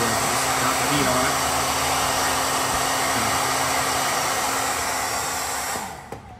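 A heat gun blows steadily on the vinyl graphics of a dirt bike to smooth out wrinkles. The airy whoosh is loud and continuous, and it winds down and cuts off near the end with a couple of faint clicks.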